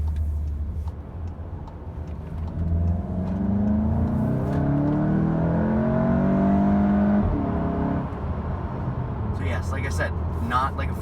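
A 2017 Volkswagen GTI SE with a DSG gearbox, in sport mode on a back road, accelerates at about three-quarter throttle. The engine note climbs steadily through the gears and loud rising whine fills the cabin before easing off.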